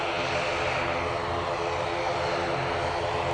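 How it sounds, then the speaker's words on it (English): An Aer Lingus ATR 72 turboprop airliner at Manchester Airport gives a steady, fairly distant propeller drone with a broad engine hum, continuous and without talk. "We have this Aer Lingus making its way down towards us using the ATR 72, going back to Belfast"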